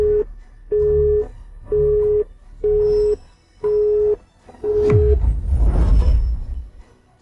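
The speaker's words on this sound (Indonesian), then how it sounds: "Pak Zona nggak bisa angkat telepon." Telephone busy signal from an unanswered call: six evenly spaced steady tones, each about half a second long, clear and loud, followed by a burst of broadband noise at the end.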